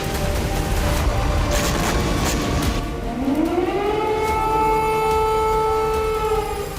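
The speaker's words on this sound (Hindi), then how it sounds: "तभी हवाई हमले से अलर्ट करने वाला सायरन गूंजने लगा।" An air raid siren wails over Kyiv, loud and sustained, its tone sliding upward and holding steady over a dense background of city noise.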